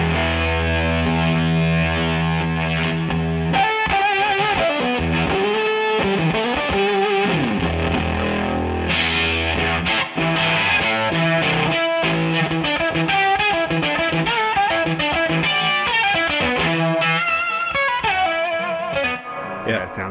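Electric guitar played through SM fuzz and octave fuzz pedals with a germanium fuzz character, giving a loud, thick, distorted tone with sustained chords and fast note runs throughout, with no talk.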